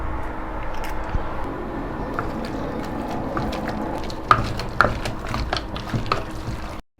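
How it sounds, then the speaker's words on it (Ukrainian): Egg being stirred one at a time into thick choux-style churros dough, a steady close wet mixing and scraping texture with a couple of sharper utensil knocks against the bowl near the end. "вводимо по одному яйце, ретельно перемішуємо"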